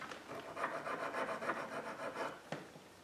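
A wood-burning tip is sharpened with quiet, rhythmic back-and-forth rubbing strokes at close range, ending with a small sharp tap.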